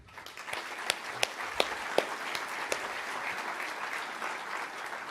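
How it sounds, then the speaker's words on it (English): Steady audience applause at an onstage interview, many hands clapping together, a few sharper claps standing out, sustained throughout at moderate volume. "They deserve a round of applause as well."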